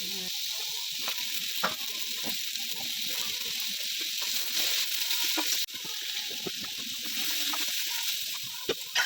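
Eggplant pieces fry in a pan with a continuous, close sizzling hiss, broken by faint stirring scrapes and small pops, with no talking over it.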